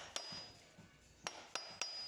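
A copper hammer taps the sprocket of a water pump on a Scirocco engine, giving four sharp, ringing metallic strikes spaced irregularly, close and clear in a quiet workshop.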